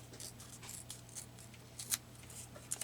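Paper being torn by hand for a Bible-journaling collage: a quiet, close run of short, crisp rips and crackles, with no voices.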